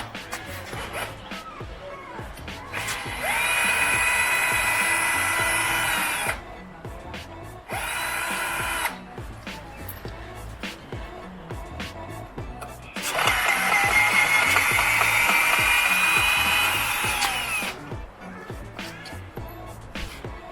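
A power drill backs out two screws from a house number plate mounted on a pole, two long whirring runs and a short burst between them, close and fairly loud, with handling noise in the pauses.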